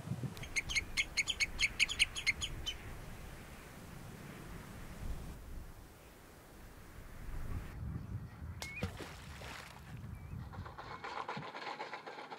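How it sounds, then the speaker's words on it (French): Seabirds call on the breeding coast of an Icelandic island, a quick run of faint repeated chirps at first, then quieter, scattered calls over soft wind noise, heard from a distance. "une île dont la bande côtière est un haut lieu d'accueil des oiseaux pour la période de reproduction"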